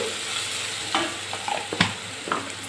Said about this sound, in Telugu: కొద్దిగా పసుపు అయితే వేసుకొని ఒకసారి ఇలా ఫ్రై చేసుకున్నామంటే సరిపోతుంది